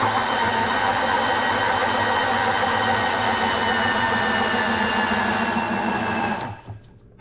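Oliver 1850 tractor engine running steadily and loud at close range after bolt work on its three-speed transmission, a constant rumbling drone that cuts off near the end, with no voices.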